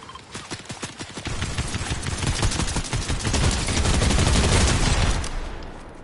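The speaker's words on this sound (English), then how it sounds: "Who the fuck is shooting?" Video game gunfire rattles in rapid bursts, close and loud, first as scattered shots and then as sustained automatic fire that swells and holds to the end.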